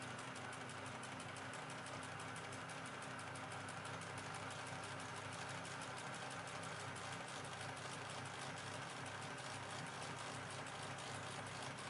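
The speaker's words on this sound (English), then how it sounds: "Press the control pedal to start the machine." A Husqvarna Viking sewing machine fitted with a Greist buttonhole attachment runs steadily for the whole stretch, a fast, even mechanical whir with rapid stitching rhythm, close and continuous with no talk.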